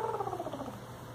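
A cat purrs softly and steadily nearby while grooming itself, a low continuous rumble with no voices.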